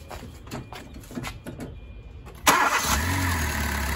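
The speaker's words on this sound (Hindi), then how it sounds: "तो गाड़ी चालू कर लेते हैं" A car engine cranks and catches after a radiator cleaner fill, with faint clicks and shuffling before a sudden loud start that settles into a steady close idle.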